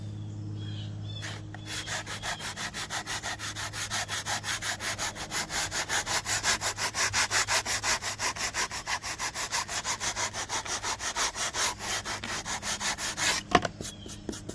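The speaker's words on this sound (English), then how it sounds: "I shouldn't be sanding it right now, but point is, the stuff comes off pretty easy." Rhythmic back-and-forth scraping of sandpaper on a still slightly moist wooden deck being stripped of stain, steady and close, with a quiet low hum underneath and no voices.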